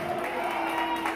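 A church congregation applauds during a Spanish-language service, a brief burst of dense, sustained clapping from a crowd in a reverberant room.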